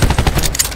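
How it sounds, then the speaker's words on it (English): Video game gunfire and a cluster grenade in Black Ops 4: a rapid, loud rattle of closely spaced shots and blasts packed into under a second. "Cluster grenade going out."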